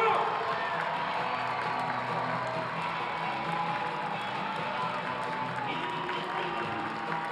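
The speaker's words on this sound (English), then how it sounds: "Standing applause for this wonderful woman." A crowd at an indoor basketball game applauds and cheers for an honoree in a continuous, moderately distant roar, with voices mixed into the wash of sound.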